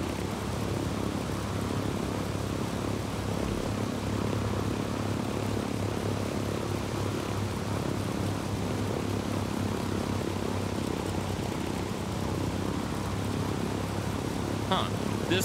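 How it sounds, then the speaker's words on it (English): Propeller plane droning steadily in Ghost Recon Wildlands, a continuous engine hum throughout with little change in pitch, heard close and fairly loud. "This plane doesn't fly as easy as the smaller ones"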